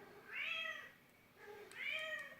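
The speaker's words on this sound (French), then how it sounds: "Il arrête pas de miauler" Domestic cat calling indoors close by, two clear rising-and-falling meows with a short pause between them, moderately loud with no voices.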